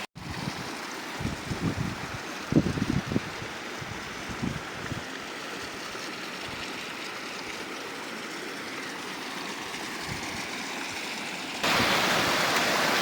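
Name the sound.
water flowing over rocks at Jadamadagu waterfall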